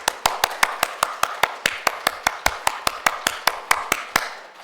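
A church congregation at a dawn service claps in unison, about twenty sharp, evenly spaced claps in a steady rhythm, close and clear with no talking over them.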